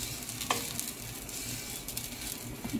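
Onions sizzling in a pan for a chicken dish, a steady close frying hiss with occasional scrape and stir sounds.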